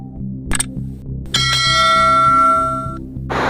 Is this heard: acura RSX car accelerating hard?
no